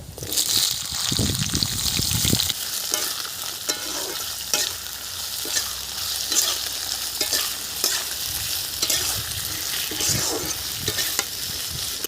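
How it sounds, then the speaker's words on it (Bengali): Potatoes frying in hot oil with five-spice (panch phoron): a loud, continuous close crackle and sizzle with repeated stirring scrapes and clacks, plus a sloshing, gushing burst in the first seconds. "তেল গরম হয়ে গেছে, এখন 5 ফোড়ন দিয়ে দিচ্ছি আলু।"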